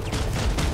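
Gunfire in PlanetSide 2, a brief burst of dense rapid shots blending into a loud, roaring battle wash.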